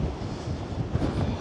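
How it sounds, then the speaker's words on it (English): Strong gusting wind buffets the microphone on the Blackpool promenade during a winter storm with high tide, a steady loud low roar with rising and falling surges and no voices. "it is very, very windy at the moment"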